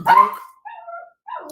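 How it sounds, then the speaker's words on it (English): A dog named Coco barks indoors at home: one loud bark followed by two softer, whiny yelps with short gaps between them, with no talk over it. "She might be barking at the ATM."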